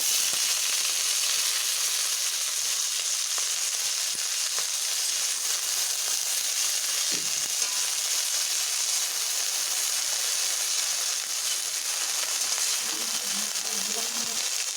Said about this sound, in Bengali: কড়াতে আমি একটু তেল দিয়ে নিলাম একটি কাঁচা লঙ্কা দিয়ে নেব এবার আমি শাকগুলোকে ছাড়ছি